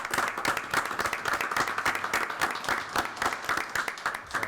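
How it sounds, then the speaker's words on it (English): A small group at a committee meeting claps in a dense, even round of applause that holds at moderate volume for the full length, with no talk. "so I think a round of applause are appropriate"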